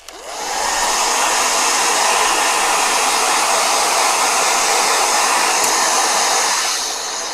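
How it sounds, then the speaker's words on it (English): Blow dryer drying a watercolor painting, its steady whooshing roar switching on, holding constant for several seconds, then easing down near the end, loud and close with no talking. "Blow dryer."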